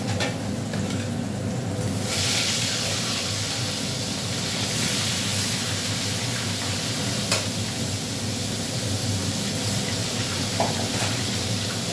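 Basella (pui) greens with green chilli and turmeric frying in a pan, a steady loud sizzle and hiss with occasional stirring scrapes running throughout, no talking.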